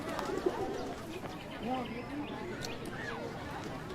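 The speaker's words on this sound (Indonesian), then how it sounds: "Burung. Merpati." Pigeons coo softly among other faint bird calls outdoors, while people talk quietly nearby throughout.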